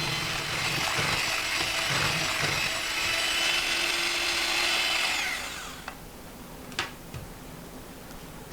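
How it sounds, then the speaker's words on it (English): An electric mixer beats pie filling at medium-high speed, a steady loud whirring drone for about five seconds that then cuts off, leaving a few faint clinks. "Mix on a medium-high speed until combined"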